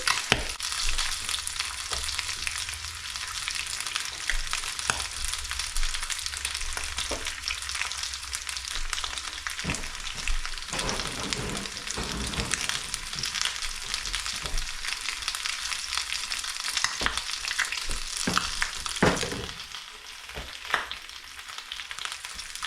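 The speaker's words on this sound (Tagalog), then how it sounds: "I-prito mo lang siya na ganyan." Dinakdakan ingredients fry in a hot pan with a steady, crackling sizzle, punctuated by occasional pops and scraping stirs, with no talking.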